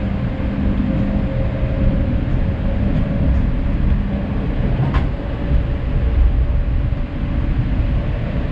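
Steady low rumble of an SNCB AM89 passenger train running, heard from inside the carriage as a continuous loud drone with faint clicks and rattles, no voices.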